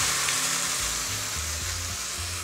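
Pinot Grigio cooking wine poured into hot risotto rice, setting off a loud, dense, continuous sizzle that hisses steadily throughout at close range.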